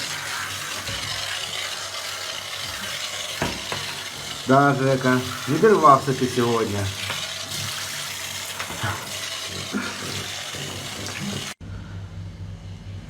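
Water sloshes and splashes throughout as a muddy dog is bathed, while a person speaks briefly in the middle; the sound cuts to quieter water near the end.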